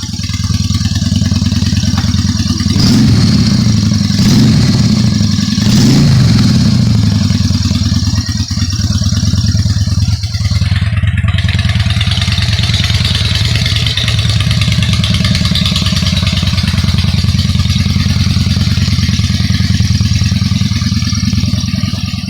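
A motorcycle engine sits at a loud, close, steady idle for over twenty seconds, rising in a few short revs early on before settling back to an even rumble.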